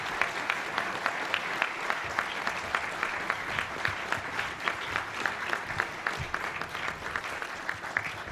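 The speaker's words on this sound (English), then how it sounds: "How about a round of applause for our guest speaker today?" An audience at the National Press Club applauds a guest speaker: steady, dense clapping from a crowd, moderately distant, lasting throughout without pause.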